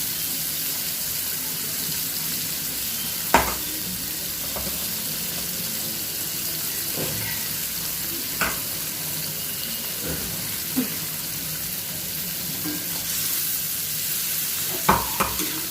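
Ridge gourd with a ground poppy seed and cumin masala fries in a pan, a steady close sizzle punctuated by occasional clinks and scrapes of a stirring spoon.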